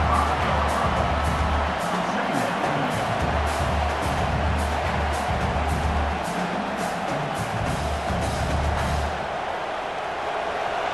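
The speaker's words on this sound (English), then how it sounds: "The roar of the crowd trying to fuel this defense to keep them pinned in their own end." Steady, dense roar of a stadium crowd at a simulated Oregon vs Minnesota college football game in College Football 26, loud and continuous throughout with swelling low rumble.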